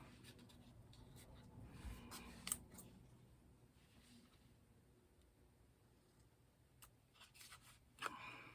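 Scissors snipping around the edge of a fabric swatch for journal ephemera, quiet scattered cuts with a couple of sharper snips and soft paper handling between them.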